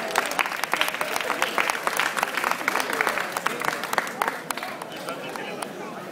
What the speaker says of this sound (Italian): Un applauso alla signora!